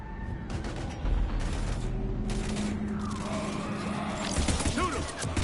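Heavy gunfire in the video game Mass Effect 3, with bursts of shots, crashes and mechanical clatter running steadily through the whole stretch under a dense, busy battle mix.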